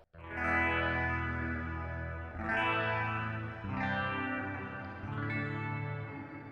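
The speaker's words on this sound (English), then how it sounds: "It's a really great dual delay. And also the shimmer reverb" Electric guitar chords through a NUX MG-300 ring out one after another, each swelling into a wide, shimmering wash of repeating echoes from dual delay and lush shimmer reverb.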